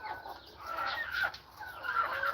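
A fighting rooster on a farm clucks and makes drawn-out, throaty calls close by, in two or three bursts with no talking.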